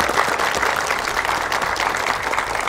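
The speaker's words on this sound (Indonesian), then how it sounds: "tepuk tangan buat Mas JJ Rizal." A studio audience breaks into loud, sustained applause for a guest, many hands clapping densely and evenly throughout the short burst with no speech over it.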